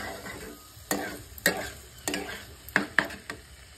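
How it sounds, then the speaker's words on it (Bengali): Leftover rice stirred and fried with vegetables in a pan: a quiet sizzle broken by about half a dozen sharp, irregular scrapes and knocks of the spatula against the pan, close by. "সবজিগুলোর সঙ্গে আমি এবার দিয়ে দেবো ভাতটা। একটু ভালো করে নাড়াচাড়া করে নেব।"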